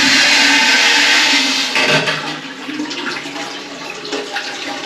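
Water pours steadily from a La Tromba AR 2001 lever tap in a station café, a loud broadband rush that softens slightly midway and continues alone without talk.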